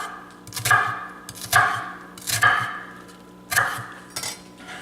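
A knife slicing through an onion on a cutting board, four or five sharp crisp cuts with short pauses between them, close by, with no one speaking.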